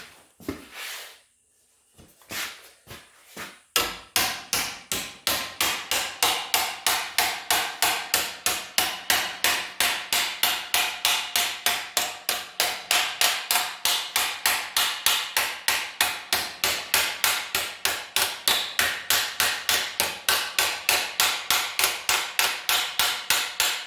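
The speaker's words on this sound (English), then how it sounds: "I'm just going to hammer this around here to get a lip" Hammer blows shaping sheet metal over a form to turn a lip on a battery tray. After a few scattered strikes, a long run of steady, rapid, loud ringing hits continues alone.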